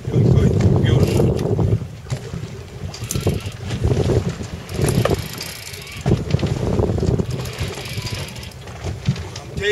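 A motorboat runs on open water with a steady engine rumble, water rushing along the hull and gusty wind buffeting the microphone, loud and close throughout.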